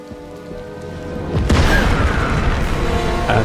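An explosion set off by rebels in Indiana Jones and the Great Circle bursts in suddenly over a low ambient score, then gives way to a sustained roar of rumbling, crackling debris that stays loud to the end.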